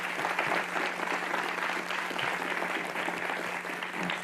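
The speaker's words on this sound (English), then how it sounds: "we should give our LOC a big round of applause" Steady audience applause fills a scientific conference session hall, a dense continuous patter of many hands clapping at an even level for about four seconds, with no one speaking over it.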